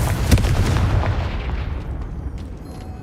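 A fiery Confringo blast spell in the game Hogwarts Legacy, with one loud, deep, booming explosion near the start that rumbles and fades away over a few seconds.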